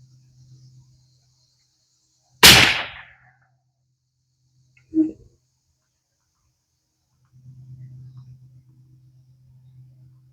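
A Weatherby Vanguard .308 rifle fires a Hornady Precision Hunter round as one sharp, loud crack that decays quickly. A softer thump follows a few seconds later, and a low steady hum runs beneath the otherwise quiet scene.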